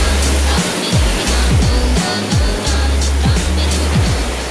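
Ocean waves surge into rock cavities carved along the Canary Islands coast at Los Hervideros, a constant loud roar of churning water buffeted by heavy gusts of wind rumble.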